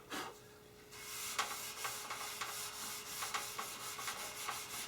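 An aluminum grill on a 1972 K25 truck is polished in soft, rhythmic rubbing strokes, quiet and close, repeating roughly every half second with no talking.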